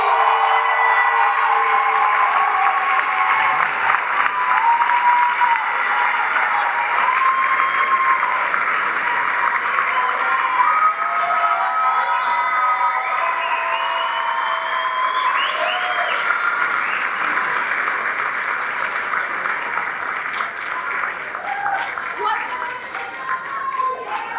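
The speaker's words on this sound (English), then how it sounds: "one more round of applause and wave to your family" An audience at a graduation ceremony applauds in a dense, sustained roar of clapping with cheers and voices mixed in, easing off slightly toward the end.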